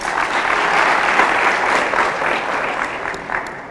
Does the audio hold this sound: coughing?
no